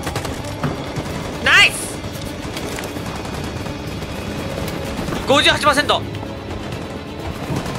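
Bursts of covering gunfire in Detroit: Become Human crackle out twice, short loud volleys over steady game ambience while someone talks excitedly throughout.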